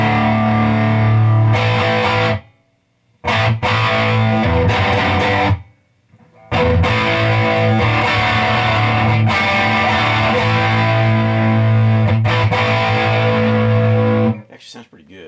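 Electric guitar played through a homemade Marshall Plexi clone amp with overdriven breakup, loud crunchy chords ringing out near the mic, broken by two brief silent gaps, with no voices.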